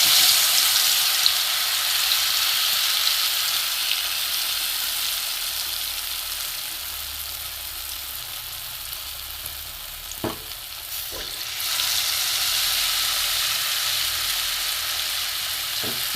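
Battered green pea chops fry in hot oil, added one at a time. A bright, continuous sizzle hisses throughout, with a couple of soft clicks midway and a brief swell in the frying.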